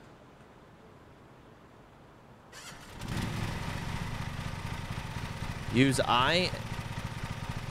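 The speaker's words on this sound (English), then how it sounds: "hold Z to start the engine" In the Lawn Mowing Simulator video game, a lawn mower engine cranks over and settles into a steady mid-pitched running drone, with someone talking over it partway through.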